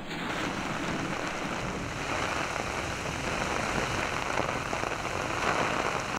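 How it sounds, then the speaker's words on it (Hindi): Heavy torrential rain pours down in Lahore, a dense, loud, unbroken roar of drops hitting surfaces that holds steady throughout with no voices. "लाहौर में मूसलाधार बारिश से नशेबी इलाकों में पानी जमा और ट्रैफिक की रवानी मुतासर।"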